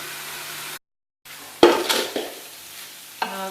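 Black chickpeas coated in masala being stirred and roasted in a pan: a soft steady sizzle broken by a short silence, then a few close scraping stirs of a spoon against the pan.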